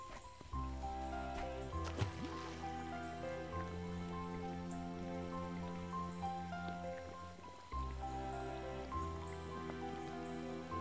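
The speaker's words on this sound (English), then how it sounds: "Ceaselessly rains." Steady rain falls in the video game Chicory, a continuous patter layered under sustained musical tones, with a few sharper drip-like accents and a brief break near the end.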